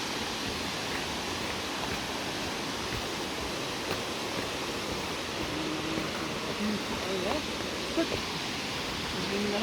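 The Tindhare waterfall roars with a steady broadband rush of falling water, heard from a trail at moderate distance, with indistinct voices now and then.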